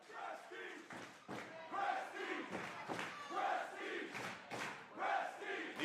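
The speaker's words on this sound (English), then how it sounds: "You listen to this crowd, they've been on the edge of their seat." An arena crowd at a wrestling main event roars and chants continuously, a dense wash of many voices rising and falling in swells, fairly distant.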